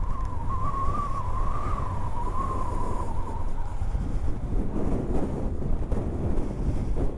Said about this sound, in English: It's gone really windy.